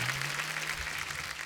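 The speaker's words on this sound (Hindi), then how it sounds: "जोरदार तालियां विकी कौशल जी के लिए" A studio audience on the Kapil Sharma comedy show claps for guests Vicky Kaushal and Shoojit Sircar, a steady, dense wash of applause that holds at an even level throughout.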